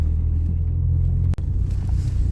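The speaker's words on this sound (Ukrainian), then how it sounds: "Так, проїхали ми по польовій дорозі." A car rolls along an unpaved dirt field road past sunflower fields, giving a steady low engine and tyre rumble with a brief dropout midway.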